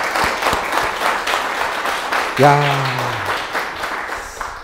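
Audience applause for the artist Ha Tae-im at a meet-the-artist talk, a steady crowd clapping throughout with a brief spoken exclamation partway through.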